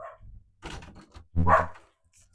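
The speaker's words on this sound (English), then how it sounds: "the dogs are going crazy" Several dogs barking outside, heard from indoors as a few loud, harmonic barks and yips in quick succession, with a brief low noise just before.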